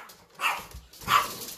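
Two short dog barks from a dog at a rural home, moderately near, spaced about half a second apart against a quiet background.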